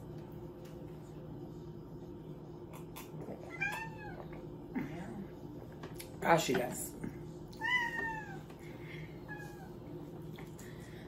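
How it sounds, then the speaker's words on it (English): A cat meows a few times in a home kitchen during a roast chicken and potatoes cooking session, fairly faint and drawn out against a steady hum, with a person talking briefly. "The kitty is singing."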